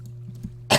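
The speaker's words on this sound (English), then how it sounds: "I'm coughing right into the microphone" A single sharp cough lands close into a microphone, loud and sudden after a short stretch of quiet room hum.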